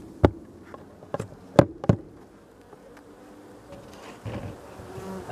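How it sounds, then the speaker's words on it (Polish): Honey bees humming inside a hive opened for a check after feeding with syrup, a steady close buzz broken by a few sharp knocks and bumps from handling the frames, with no voices. "No i tu też jest masę pszczół."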